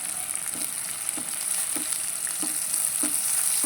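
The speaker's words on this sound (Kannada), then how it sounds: "ಕೊತ್ತಂಬರಿಗೆ ಸ್ವಲ್ಪ ನಾನು ಸೈಡಲ್ಲಿ ನಾನಿಲ್ಲಿ ಹುರಿತೇನೆ" Coriander sizzles steadily as it fries in oil in a pan, with a bright crackling hiss throughout and soft, regular scraping knocks of a spoon stirring about every half-second.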